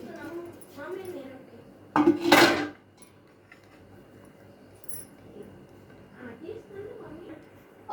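A metal kadai is set down on a gas stove with one sharp clanging rattle of metal, heard between stretches of a person talking.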